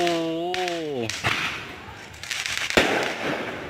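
New Year fireworks go off outside a condominium, with several sharp bangs and crackling bursts at mid distance, mixed with a voice heard briefly near the start.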